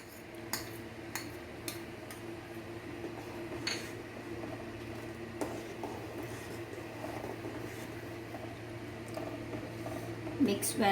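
A spoon stirs rice kheer with cardamom and cashew nuts in a pot, making sparse light clinks and scrapes against the metal over a quiet, low simmering background.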